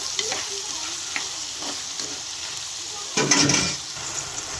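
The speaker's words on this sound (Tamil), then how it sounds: "தக்காளி சேர்த்து கொஞ்சம் நல்லா கிளறி விடுவோம்" Onions and tomatoes frying in a pan for an egg stir-fry, a steady close sizzle with soft scraping strokes and one louder stir that briefly swells the crackle.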